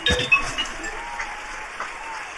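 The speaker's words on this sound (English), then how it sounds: "Give it a round of applause." A small group gives brief, fairly faint clapping in a room after a graphics-card cryptocurrency mining benchmark session, with a steady background hum and scattered voices.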